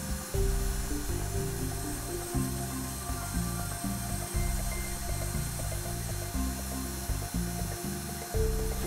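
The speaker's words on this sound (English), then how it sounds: "The last step for the 2D engraving is the text. This is done with the 1mm end mill." A CNC machine engraves text into acrylic with a 1mm end mill for an arcade machine panel, a loud steady whine with stepping, pulsing motor tones that start and stop in quick rhythmic segments, alone.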